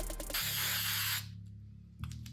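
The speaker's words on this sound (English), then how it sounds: "Not sure if I sprayed too much or not" Gorilla Glue waterproof spray hisses from an aerosol can in one close, forceful burst of about a second, followed by quiet and a faint short spurt at the end, with no talk.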